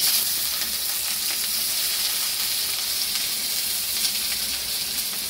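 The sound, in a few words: chopped onions added to hot oil, frying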